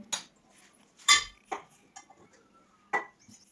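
A spoon clinks and scrapes against a bowl while cucumber and curd salad is mixed, a few sparse separate knocks with quiet pauses between them.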